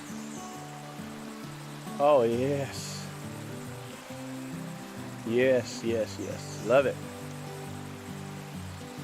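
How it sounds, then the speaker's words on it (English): A shallow stream, running low, flows at Hall Woods Nature Preserve along Big Walnut Creek with a steady soft rush beneath a voice as he talks. "just hearing water run, that is just gorgeous"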